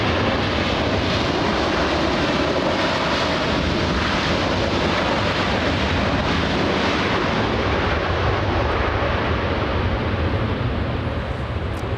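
A United Airlines airliner bound for Japan thunders loud and close at LAX, a dense, continuous full-power jet roar holding steady across the whole stretch with no voices.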